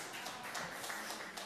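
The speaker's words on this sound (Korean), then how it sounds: "이분들은 박수 받으셔야 됩니다." A church congregation applauds during a Sunday service: a brief, faint, dense patter of many hands clapping, heard from some distance with no voices.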